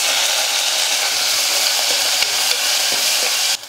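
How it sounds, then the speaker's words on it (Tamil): Finely chopped large onion dropped into hot oil with popped mustard seeds in a pan, sizzling and frying steadily and loudly while being stirred, with no talk. "ஒரு பெரிய வெங்காயம் எடுத்து பொடியாக நறுக்கி எடுத்துக்கிட்டு அந்த வெங்காயம் சேர்த்துக்கிறேன்."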